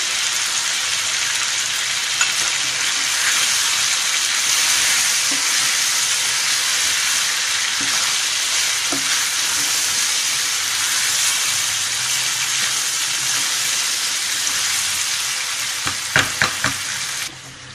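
Crushed red chili hisses and sizzles loudly in hot oil with garlic and ginger for a chicken karahi, a steady close frying roar with a few scraping stirs near the end.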